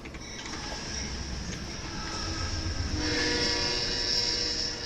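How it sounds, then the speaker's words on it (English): An Amtrak train rolls past at a distance, a rising rumble with sustained high whine and faint horn-like tones, growing louder toward the end with no talk. "Oh, Amtrak train is just showing up there."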